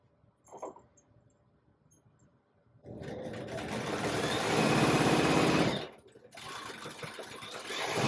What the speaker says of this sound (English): With fork pins, I like to sew over them really slowly